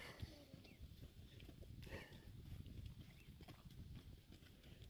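Donkey hooves clip-clop on a rocky mountain trail near the Col du Chamoussière, faint and fairly distant, with scattered clicks and footfalls over a low outdoor rumble.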